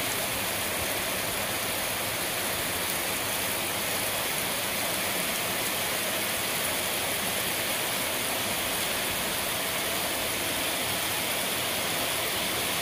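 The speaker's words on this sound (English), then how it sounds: "Have a look at Bangkok in the rain." Steady, heavy rain pours down on Bangkok streets in a continuous broadband hiss, dense and unbroken throughout, with no voices.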